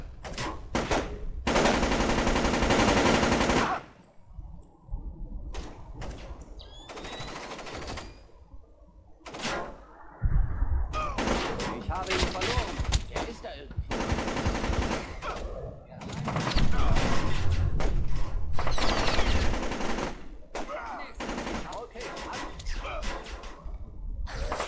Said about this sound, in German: Doch schon, die schießen auf mich.